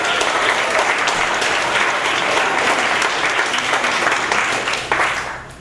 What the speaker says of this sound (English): everyone loves cheap, unearned applause